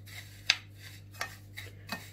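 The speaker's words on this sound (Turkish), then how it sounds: "Şimdi çikolata ve kadayıfı birbirine karıştırıyoruz." Melted chocolate stirred into kadayif pastry in a cup, with a few sharp utensil clinks against the container spaced apart over a quiet background hum, close and fairly faint.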